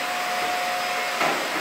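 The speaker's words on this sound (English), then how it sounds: "vacuuming it all out" A vacuum cleaner runs steadily while cleaning out a disassembled Samsung front-load dryer, a loud constant whine and hiss with a brief bump in pitch near the end, no voices.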